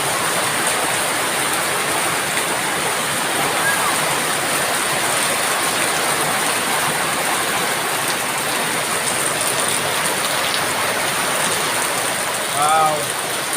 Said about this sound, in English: So that's your rain. It came sooner than I thought.